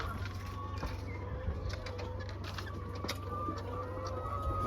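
Chickens cluck and chatter in a farm chicken pen in Zimbabwe, a steady flock murmur with occasional sharper calls over a constant low hum.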